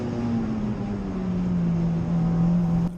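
A race car engine on the Super Lap Scotland circuit drones steadily at a fairly constant pitch as the car goes down through Butchers and over the Black Circle chicane, then cuts off sharply at the end.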